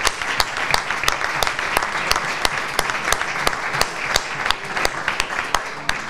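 An audience at a book presentation in Nerva breaks into sustained applause, a full, dense wash of clapping with sharper individual claps standing out, fairly close and loud with no talk over it.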